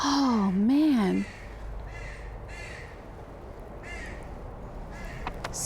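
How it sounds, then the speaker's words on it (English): A crow caws repeatedly out in the open, several separate rasping calls spaced across a few seconds and heard at a moderate distance, after a person briefly speaks. "Speaking of Raven, I think that's a crow."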